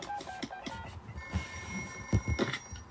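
A telephone rings with a trilling bell in a children's cartoon scene, fairly faint beneath other soft background sounds.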